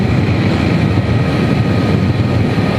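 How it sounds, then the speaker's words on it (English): A BMW M1000XR sports motorcycle engine roars steadily and loudly throughout, a dense continuous drone with no talking over it. "the noise of the engine, it just sounds so beautiful"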